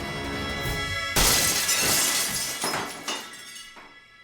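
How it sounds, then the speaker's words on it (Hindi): A jeep's glass window is smashed in one loud shattering crash, followed by falling shards and a few trailing clinks that fade away, with no voices. "अरे शीशा किसने तोड़ा?"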